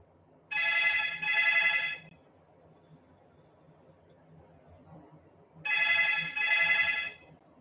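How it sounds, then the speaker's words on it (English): A phone rings indoors during a meditation talk, two pairs of bright electronic trill bursts separated by several seconds of near silence, heard clearly and fairly close in a quiet room. "my phone is ringing in the room"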